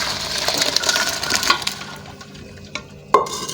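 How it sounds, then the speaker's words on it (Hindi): Water drains from boiled rice for biryani, a soft splashing rush with a few sharp metallic clinks of the pot or strainer, close by and with no voices. "अब इनका हम पानी निकालेंगे।"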